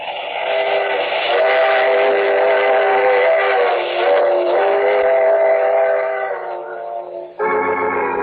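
A steam train whistle blows in a long, loud, sustained chord, breaks off briefly, then sounds again near the end, in a 1947 radio drama. No voices are heard.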